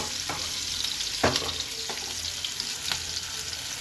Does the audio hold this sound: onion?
yes